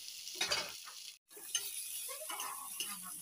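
Potatoes sautéed in a pan with salt and turmeric, giving a steady close sizzle with scattered light stirring scrapes and clicks, briefly cut to silence midway.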